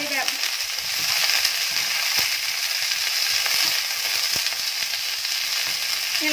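Potatoes stir-fried with a little oyster sauce, a steady close sizzle with crackling pops and intermittent stirring scrapes, alone without talk.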